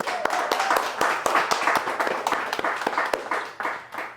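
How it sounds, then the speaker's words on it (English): An audience applauds a new book release, with a sustained burst of lively clapping from a modest indoor crowd that gradually thins toward the end. "so clap it up real quick"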